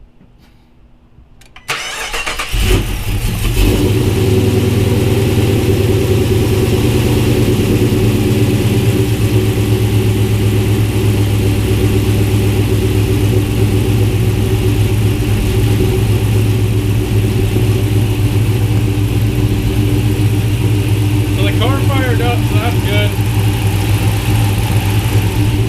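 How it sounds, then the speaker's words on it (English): A cammed Dodge Charger R/T fitted with a new JLT intake cranks and starts after a quiet moment, then settles into a loud, lumpy idle that holds steady throughout, with a brief faint voice late on. "as you can tell, the engine up front's pretty quiet"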